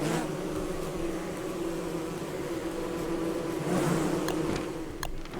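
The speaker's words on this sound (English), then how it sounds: "And avoid the killer bees." Killer bees in a video game produce a continuous droning buzz that holds steady and fairly faint throughout, with a couple of brief clicks near the end and no talking.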